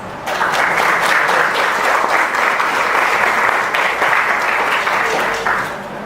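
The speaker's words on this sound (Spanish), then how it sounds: "Recibámoslo con un fuerte aplauso" An audience at a medical lecture claps loudly and continuously for several seconds to welcome a speaker, dense steady applause that fades slightly at the end.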